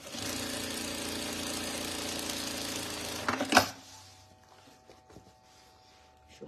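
A sewing machine stitches a second seam alongside the zipper of a fabric crossbody bag, running steadily and close for about three seconds, then stopping with a clunk and leaving near silence.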